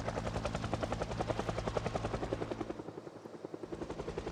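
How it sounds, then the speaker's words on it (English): In a video game, a helicopter passes overhead. Its steady rapid rotor thumping is loud and continuous, then thins slightly as it moves along, with no talking. "Two pass heli."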